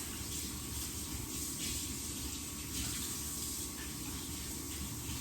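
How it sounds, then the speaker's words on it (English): Hands rinse under a running tap in a sink, a steady close splashing rush of water continuing evenly throughout with no talking. "Let me put this in the sink and give my hands a little"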